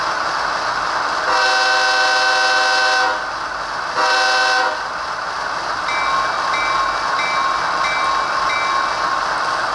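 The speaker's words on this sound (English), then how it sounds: "we'll do a little close run by here and listen to this prime mover" A model Athearn Genesis ES44AC locomotive with a Soundtraxx sound decoder rumbles with a steady diesel prime mover drone, broken by two loud horn blasts and lighter chiming tones later.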